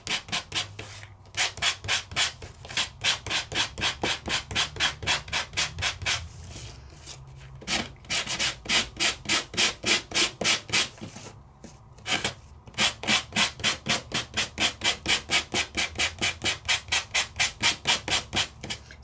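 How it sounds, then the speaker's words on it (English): Steady back-and-forth rasping strokes of a sanding block on paper, rhythmic and close, with a couple of brief pauses between runs. "And that means we can sand it."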